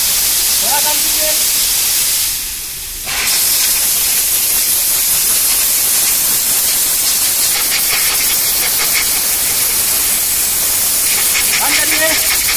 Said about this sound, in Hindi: अब थोड़ा हवा मार देंगे सॉकेट पे